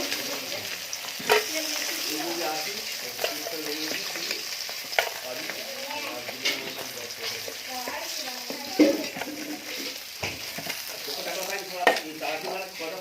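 Spice-coated katla fish pieces frying in hot oil, with a steady, close crackling sizzle and occasional stirring and utensil clicks over the whole stretch.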